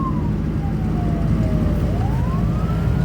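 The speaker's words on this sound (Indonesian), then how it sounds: "Sirine kita nyalain ya." An ambulance siren wails in slow rising and falling sweeps over a steady low engine rumble, continuous throughout.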